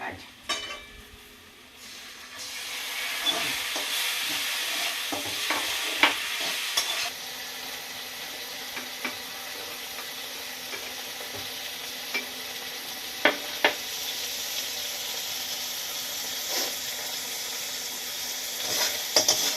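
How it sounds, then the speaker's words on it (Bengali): Steady sizzling of ginger garlic paste frying in a pan, with occasional clinks and scrapes of a spoon stirring throughout. "আদা রসুনের পেস্টটা দিয়ে একটু ভাজা ভাজা করলাম"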